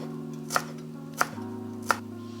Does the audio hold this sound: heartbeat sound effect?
no